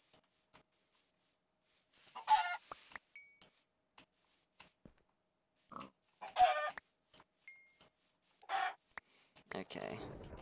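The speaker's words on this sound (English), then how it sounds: "This chicken's here." A chicken in a video game clucks in short, scattered bursts across several seconds, with brief electronic blips between them and louder rustling near the end.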